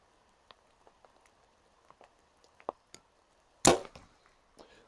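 A bow with a trigger release is shot, giving a loud, brief burst of noise near the middle, then a softer thud of the arrow striking the target. Scattered light ticks and clicks come before it, and no one speaks.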